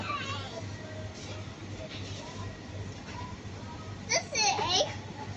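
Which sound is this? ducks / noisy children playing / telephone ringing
noisy children playing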